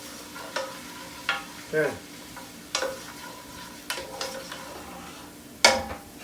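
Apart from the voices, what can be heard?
stirring tomato paste in a pan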